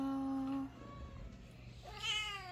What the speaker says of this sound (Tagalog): Daming pusa.